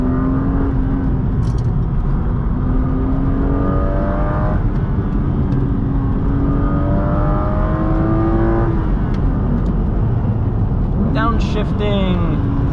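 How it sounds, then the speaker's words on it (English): A car is driven hard on a winding canyon road. Its engine is loud and near, with revs rising and falling through gear changes and a sharp blip at a downshift. Someone talks over much of it. "hard on the brakes, downshifting into second, back on the gas."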